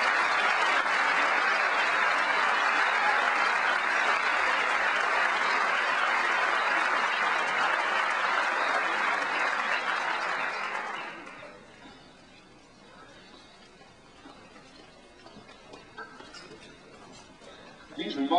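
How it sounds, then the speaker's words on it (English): Sustained audience applause at an anti-Iraq War rally, a dense, loud wash of clapping lasting about eleven seconds before fading quickly into quieter room noise and scattered sounds. "Please give a round of applause to Seymour Melman."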